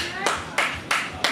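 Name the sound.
hand clapping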